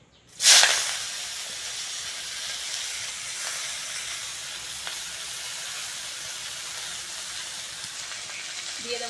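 Fenugreek leaves hit hot oil in a pan where bitter gourd was just fried, starting with a sudden loud burst of sizzling that settles into a steady close hiss and crackle for the rest of the time, with no voices.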